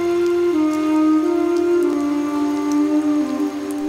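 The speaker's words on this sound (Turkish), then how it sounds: "şiddetli ve aralıksız yağan yağmur Yılmaz Mungil'e zor anlar yaşattı." Heavy, unbroken rain falls during a Survivor competition. A dense, steady wash of rain lasts throughout, loud and close, with sustained tonal sounds running underneath.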